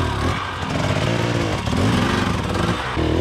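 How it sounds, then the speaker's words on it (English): Enduro motorcycle engine revving steadily on wet ground during cross training, rear wheel spinning for traction, loud and close throughout with a slight dip mid-clip and no speech. "When it's wet like this, a simple bounce on the seat can easily double traction and get drive instead of wheel spin."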